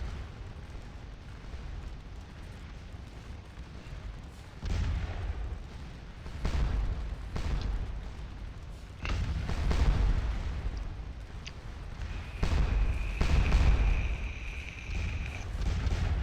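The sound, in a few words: musket volley gunfire in Scourge of War video game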